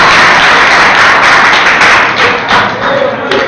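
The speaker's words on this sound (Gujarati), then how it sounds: "બધા તાળીઓથી વધાવી લો એને." Students in an engineering class applauding a classmate, a dense burst of loud, close clapping that continues throughout with a few thumps mixed in.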